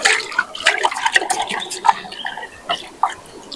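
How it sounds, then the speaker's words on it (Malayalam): A metal cooking pot is scrubbed and rinsed with river water at a riverside campsite at night, giving close, irregular splashes, clinks and scraping bursts with no talk. "ഈ പാത്രം ഒന്ന് കഴുകണം"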